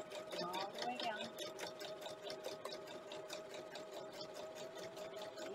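Sewing machine top stitching along a band on a towel, running steadily and close with a continuous rapid mechanical whir, while a person talks over it.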